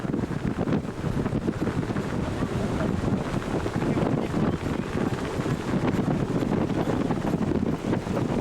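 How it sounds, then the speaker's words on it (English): Strong wind buffets the microphone on a ship's forward heliport, a loud, unbroken roar with gusty low rumble filling the whole stretch. "Boy, is it windy out here."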